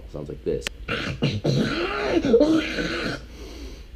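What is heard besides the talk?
zombie vocal sample from Cymatics Halloween sample pack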